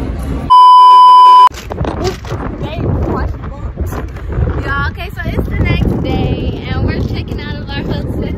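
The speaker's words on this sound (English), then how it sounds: "The wind is really like strong" Strong wind buffets the microphone outdoors, a continuous low rumble running under frequent talking, with a loud steady electronic beep near the start.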